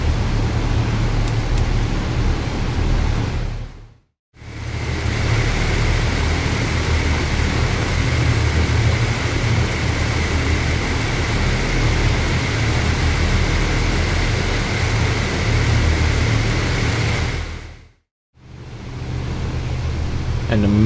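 Loud, steady drone of a DC-6's propeller engines idling in a flight simulator, with a constant whine, running continuously with two brief dropouts to silence.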